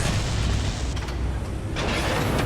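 A rumbling explosion as a radome is destroyed in Metal Gear Solid, a heavy, sustained low boom with crackling debris that fills the whole moment at steady loudness.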